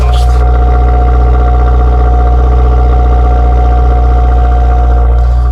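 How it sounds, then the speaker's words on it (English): Stock-exhaust Subaru WRX with 186,000 miles running steadily at idle, a constant low droning engine tone holding close and loud from start to finish. "This is it running,"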